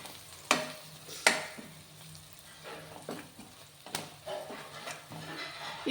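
A spoon scraping and stirring potato, fenugreek and pea curry with coriander powder in a pan, a few sharp clinks among soft sizzling, close and quiet with no talk.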